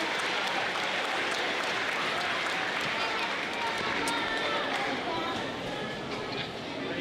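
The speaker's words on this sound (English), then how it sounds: "let's give our third graders a big round of applause" An audience at a school awards ceremony gives third graders a sustained round of applause, a dense, even wash of clapping that holds steady for several seconds before easing slightly.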